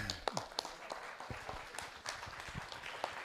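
An audience applauds at a tribute event, with a steady patter of many hands clapping at moderate distance throughout and a voice speaking over it.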